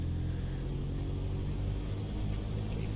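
An aircraft engine in Microsoft Flight Simulator 2020 throttles up as a steady, low, rumbling drone that stays even and moderately loud throughout, with no voices over it.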